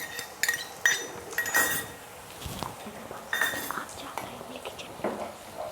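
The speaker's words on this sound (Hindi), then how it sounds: "फ्लेम को कम कर देंगे और इसमें डालेंगे हम थोड़ी सी दही" Metal spoon clinking against a pan while yogurt is stirred into gravy on a low flame, with several bright clinks and scrapes spread over a quiet kitchen background.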